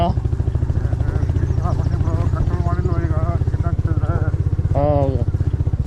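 A heavy motorcycle engine on a group breakfast ride throbs close and loud in a steady pulsing rhythm, with someone speaking over it.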